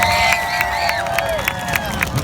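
A crowd at a live Alaskan pig racing show cheers and claps loudly for the grand champion, with whoops and whistles rising over a dense, steady roar.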